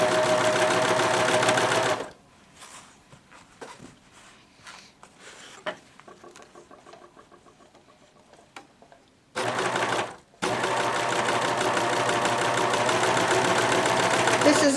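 A serger fitted with a belt loop binder foot sews fabric in two loud, fast, steady bursts, separated by a quieter stretch of small handling clicks and taps, with a voice heard during the pause.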